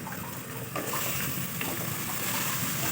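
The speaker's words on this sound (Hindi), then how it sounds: "जब प्याज इस तरह हल्के फ्राई हो जाए तो अब इसमें हम कद्दू डाल देते हैं" Pumpkin tipped into a pan of lightly fried onions for a village-style kaddu curry: a steady, close, broadband sizzle and frying hiss that swells as the pieces land, with no talk.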